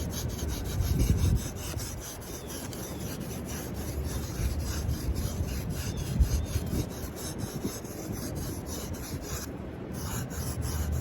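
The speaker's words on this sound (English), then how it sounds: "So I'm going to go to my finer paper and continue sculpting" Finer sandpaper rubs over a foam bottle mock-up in steady, continuous rasping strokes, close and fairly loud throughout with no talking.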